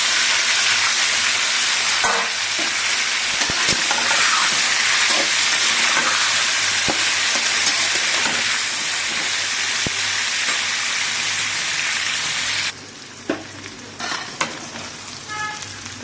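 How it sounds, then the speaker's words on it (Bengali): Steamed cauliflower frying in hot oil in a wok, a loud, steady, close sizzle with stirring clatters, which drops in intensity toward the end as the pan noise thins out. "তো এর উপরে আমি ফুলকপি ভাপানোটা দিয়ে দিচ্ছি।"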